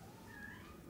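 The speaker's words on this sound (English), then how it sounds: "The baby kitten's crying." A faint, short kitten meow in a quiet indoor room, a single thin cry heard from a little distance.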